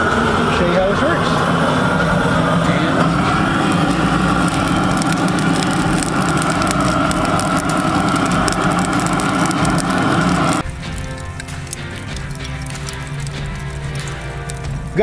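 A propane grill gun torch lights charcoal in a Primo smoker, giving a loud, steady roaring hiss for about ten seconds before it cuts off sharply, leaving a quieter background.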